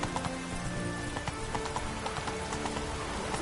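Hooves of the horse Roach pound steadily in The Witcher 3: Blood and Wine, a close, rhythmic clip-clop gallop running the whole time over a soft tonal background.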